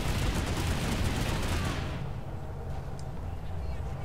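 Dense, continuous gunfire from a PlanetSide 2 battle, a loud fusillade of rapid shots that thins out after about two seconds into a quieter background rumble with a few distant pops.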